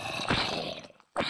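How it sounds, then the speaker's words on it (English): A Minecraft zombie groans nearby in a short, rough burst with a brief pause, then the guttural moan starts again. "Hi, zombie, I hear you."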